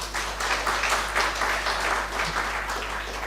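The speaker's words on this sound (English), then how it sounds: "Please clap for yourselves." Audience applause at an engineering school launch ceremony, steady clapping sustained for a few seconds at a moderate level, with a constant low hum underneath.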